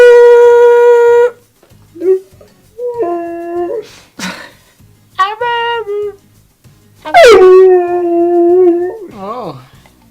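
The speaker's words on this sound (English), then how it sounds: "You're just in a howling mood now." A husky howls in several long, loud, close cries separated by short pauses, with whimpering yips and wavering pitch slides between them.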